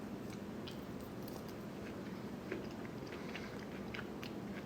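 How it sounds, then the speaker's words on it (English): Someone eats food while cooking on a live stream, with soft, close chewing and small crunches repeating over steady background noise and no talking. "The chewing, well, that's kind of what comes along with eating food on live."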